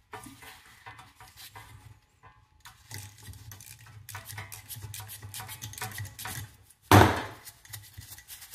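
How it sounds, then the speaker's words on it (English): A 7mm socket works a bolt free from an electric fan motor: light metallic clicks and scrapes tick along at close range, then a single loud metal clack lands near the end. "For the back side, I'm going to be using a 7mm socket to be removing that."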